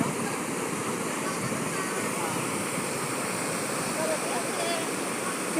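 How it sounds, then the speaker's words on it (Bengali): A fast, powerful river current at a riverside temple site in Nashik, India, rushing steadily and loudly as a broad, continuous roar close by, with no break across the span. "কি জলের স্রোত!"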